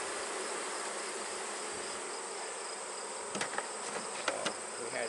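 Honey bees fan near a swarm with a steady, dense buzzing drone, and a few faint clicks come near the end.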